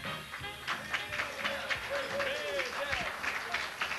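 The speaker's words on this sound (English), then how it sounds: "How about a nice warm round of applause for Deb?" Applause from a live radio show audience in Fond du Lac, a dense patter of clapping mixed with whoops and crowd voices, steady and fairly close throughout.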